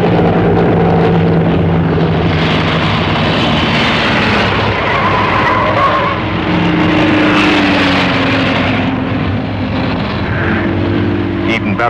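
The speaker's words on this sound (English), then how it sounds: "The blue Peugeots, with their tails cocked high, seem to gain yards on every corner." Early blue Peugeot racing cars cornering during a motor race, a continuous loud roar of engines rising and falling as they pass, with a narrator's voice running over the noise.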